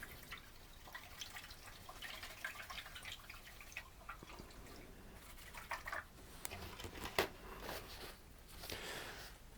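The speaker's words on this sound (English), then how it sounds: "And I wash my brush." A paintbrush swished and rinsed in a water jar during acrylic painting, giving faint, irregular drips and splashes over quiet room noise, with a sharper clink near the end.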